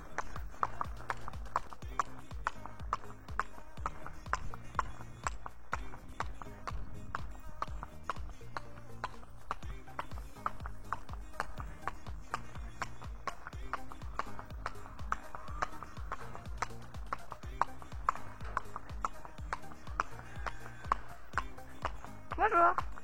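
Horse hooves clip-clop along a road at a steady walking rhythm, the repeated sharp knocks continuing throughout with some low background noise and no talking.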